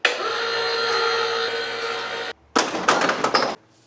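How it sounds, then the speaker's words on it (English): Noisy mower-deck pulley on a John Deere D140 riding mower, a loud continuous grinding, whirring roar that cuts out briefly, then returns rougher and more uneven before stopping, with no talking. "the noise you're hearing is coming from one of them two pulleys"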